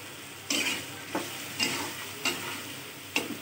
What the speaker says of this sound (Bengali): এভাবে কষিয়ে কষিয়ে রান্না করবেন